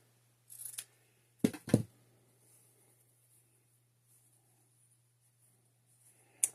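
Scissors snip material for a Dollar Tree fall garland in a quiet room, a few short, crisp cuts close by, one early, a quick pair near the middle and another at the end, with near silence between.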